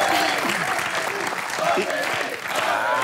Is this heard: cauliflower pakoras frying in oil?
no